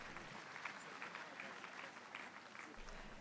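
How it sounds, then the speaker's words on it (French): Congregation applauding during a French-language church service, a steady, fairly faint and even patter of many hands lasting the whole stretch. "Applaudissons pour Jésus-Christ."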